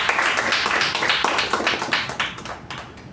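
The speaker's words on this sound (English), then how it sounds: "In his absence, I want to give him a huge round of applause." A Toastmasters meeting audience gives a round of applause in a member's honour, a dense patter of many hands clapping nearby that holds steady, then thins and fades toward the end.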